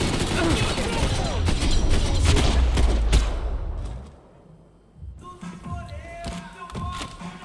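Rapid bursts of gunfire in the video game Max Payne 3, dense and loud for several seconds, then a quieter stretch with scattered sharp shots and clatter, with someone speaking over it.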